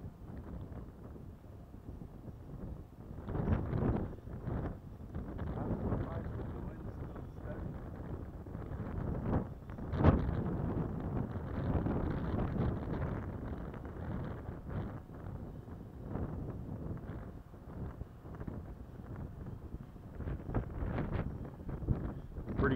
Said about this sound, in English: Pretty good gust of wind coming here